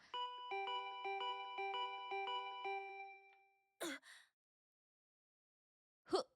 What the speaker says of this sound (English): Go easy on the doorbell.